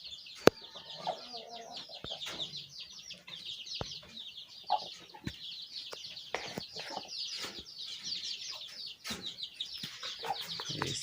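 A chicken clucks repeatedly and close by in short, irregular bursts, with faint background noise and a few sharp clicks in between.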